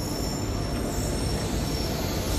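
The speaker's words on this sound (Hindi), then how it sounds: "ये आ गई अपनी भैया भारतीय रेल" An Indian Railways train pulls into a station, a loud steady roar of rolling wagons with a thin high wheel squeal running throughout, no voices.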